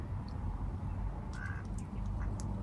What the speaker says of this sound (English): This duck has been here all day.